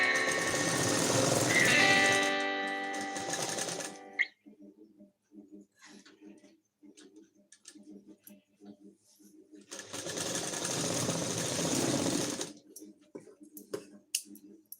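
A sewing machine stitches the hem of a princess-cut blouse in two loud, fast running bursts, separated by a quieter gap of soft clicks and handling noises.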